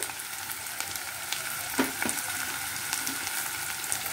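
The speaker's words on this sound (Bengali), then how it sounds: "আমি এখানে একটা বড় পেঁয়াজ কুচিয়ে নিয়েছি, পেঁয়াজটা ভাজবো।" Chopped onion frying in a pan with cumin for a dhaba-style lasuni palak paneer, a steady close crackling sizzle with a few louder pops and stirring scrapes, no talk.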